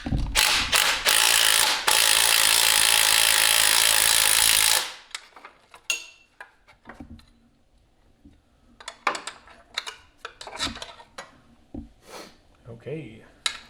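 A power saw cuts at the exhaust of a cheap Porsche 911 in a loud, harsh burst lasting about five seconds, then stops, leaving scattered metallic clanks and tool handling along with some talk.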